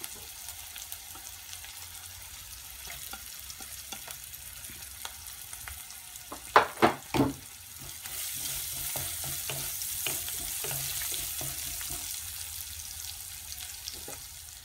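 Ginger frying in a pan with browned onions for a Kerala coconut-milk fish curry, a steady soft sizzle with a few sharp clattering stirs midway before the frying hiss grows brighter and fuller.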